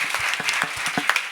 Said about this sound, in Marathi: एकदा यांच्या नावाने जोरदार टाळी सगळ्यांनी.